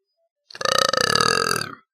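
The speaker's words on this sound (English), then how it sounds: "Here comes another one." A long, loud belch of about a second and a quarter, close to the microphone and heard on its own, with a rough, rumbling voiced tone.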